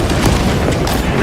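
A shock grenade detonates in Space Marine II, a dense low boom buried in thick battle noise and rumble, with no clear separate impact.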